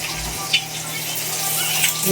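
Food fries in a pan, a steady close sizzling hiss with a couple of brief louder spits, heard on its own for about two seconds.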